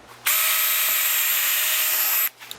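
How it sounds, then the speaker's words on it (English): Power drill boring pilot holes into a house wall for mounting a hose wall reel, a single steady high whine lasting about two seconds, close and loud, with a sharp start and stop. "go ahead and drill the pilot holes on the bottom holes"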